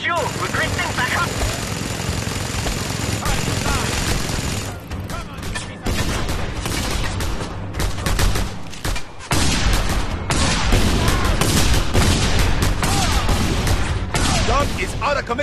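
In the video game Just Cause 2, a mounted gun fires in dense, rapid bursts over engine and helicopter rumble and booms, with loud, continuous combat noise and shouted voices mixed in.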